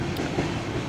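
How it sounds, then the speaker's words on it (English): CSX freight train 5116 West, a long double-length train, rolling past on the rails as a steady low rumble with faint clatter, close and continuous over a brief moment. "That was definitely a Hunter Harrison train."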